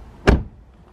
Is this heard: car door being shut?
yes